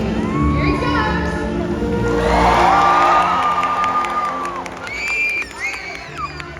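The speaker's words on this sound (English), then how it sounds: "I want you guys to give him a great big cheer." A large crowd at a SeaWorld Orlando orca show cheers and whoops loudly, swelling to a sustained roar as the killer whale leaps, with children shouting and some announcer speech over the stadium noise.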